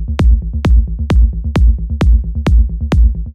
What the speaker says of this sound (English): You probably already have a bass line that sounds like this.